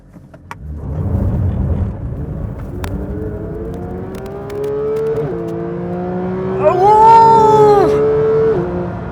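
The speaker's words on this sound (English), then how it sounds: "Listen to that engine!" A Porsche 992 GT3 engine revs and accelerates on the street, loud and close, its rising harmonic pitch climbing through the gears with a brief drop at a shift and a high-pitched peak near the end; a person gives a short exclamation.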